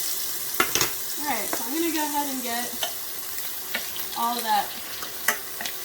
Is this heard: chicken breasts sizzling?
yes